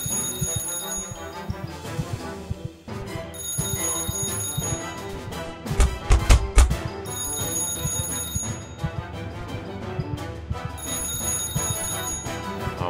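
A timer alarm in the video game Calm Down, Stalin rings repeatedly in bright, bell-like bursts over busy game music, with a short thumping passage in the middle.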